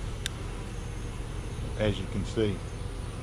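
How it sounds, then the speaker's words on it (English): Honeybees hum around a hive box in a constant low buzzing drone throughout, with someone speaking briefly over it. "checking up on the bees we removed from the dresser"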